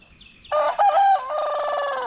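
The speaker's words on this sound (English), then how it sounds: "It's actually a giant rooster, and we've decided to name him Poncho." A rooster crows loudly and close by, one long drawn-out cock-a-doodle-doo after a couple of brief chirps.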